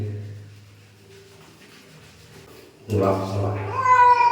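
A cat meows loudly and drawn-out near the end, after quiet background, during a pet's bath at home with soap and shampoo; people talk nearby.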